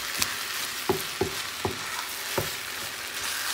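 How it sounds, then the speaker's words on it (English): Mince and vegetables in a pan hiss steadily as a spoon stirs them, with several distinct scraping knocks against the pan at uneven intervals, close and without talk. "So just keep stirring, get it all mixed in"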